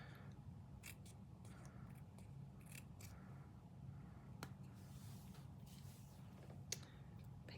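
Scissors snip through card paper for a Halloween fold card and treat box, a run of close, quiet crisp cuts at an irregular pace over a low room hum.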